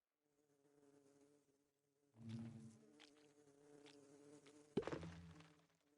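Minecraft bees buzzing around hives in a survival game, a soft steady drone that swells louder from the middle onward, with a brief sharper burst near the end and no talking.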